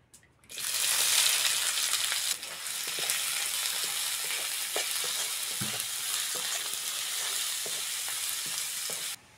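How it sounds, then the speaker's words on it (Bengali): Onion drops into hot oil and a loud, bright sizzle bursts up at once. It stays strong and steady throughout, with occasional soft knocks from stirring, then stops. No speech. "এবার তেলের মধ্যে পেঁয়াজটা দিয়ে দেবো।"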